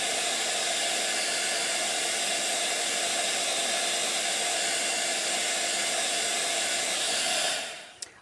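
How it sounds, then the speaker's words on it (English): A heat tool blows hot air steadily and loudly to dry organic spray ink on card, a constant roaring hiss that cuts off near the end. "you then use your heat tool to dry them around"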